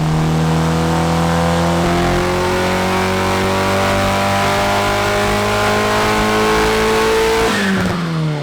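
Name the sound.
turbocharged Honda Civic engine revving on dyno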